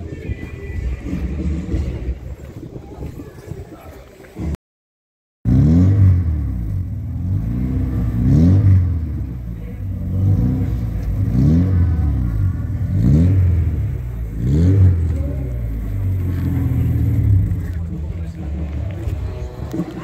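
A car's standard 1.3-litre fuel-injected engine revs repeatedly at a fan car meet, with rising and falling rumbling bursts close by under outdoor chatter and a brief silent cut early on.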